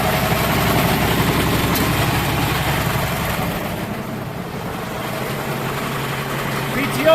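A 1969 John Deere 4020 diesel tractor engine idles steadily at close range, a loud continuous low rumble whose tone shifts slightly midway as the PTO is engaged.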